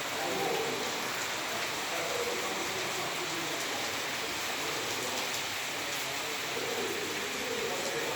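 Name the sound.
heavy rain falling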